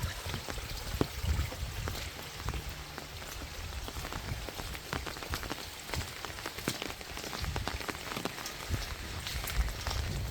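Steady rain falls on a freshly plowed garden and concrete beside a gutter system, a dense close patter of drops with running water and occasional sharper splashes throughout.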